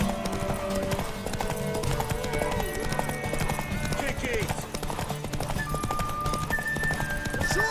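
Rapid hoofbeats clip-clop steadily throughout, with a horse whinnying and people talking over the busy soundscape of The Witcher 3: Wild Hunt on PS5.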